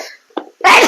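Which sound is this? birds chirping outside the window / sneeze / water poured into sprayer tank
sneeze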